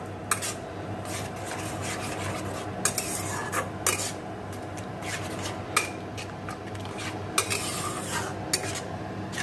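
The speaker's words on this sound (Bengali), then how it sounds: "মশলাটা ভালো করে কষে নিই।" Spice masala sautés in a pan on a low gas flame, with steady sizzling and repeated scraping and clinking strokes of a spoon against metal, close and continuous, with no talking.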